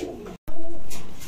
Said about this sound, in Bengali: আজকে কিন্তু মাশাল্লাহ কোয়ালিটিফুল কবুতর রয়েছে